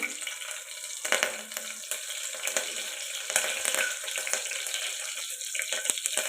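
Green chilies and curry leaves sizzle in hot oil in a pan for a Telugu-style country chicken curry, a steady crackling hiss with small pops, moderately quiet.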